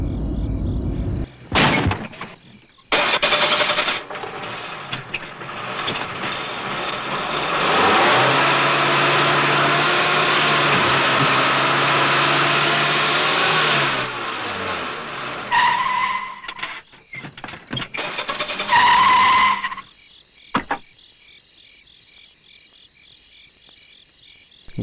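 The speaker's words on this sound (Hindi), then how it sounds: "गाड़ी फंस गई है लगता है" A car engine revs hard for a long sustained stretch while the vehicle is stuck, with short bursts of revving and tire noise before and after and no talk over it.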